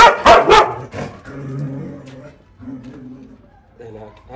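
Two loud, close dog barks come at the start, followed by softer whining and yipping sounds from the dogs, with a person talking between them.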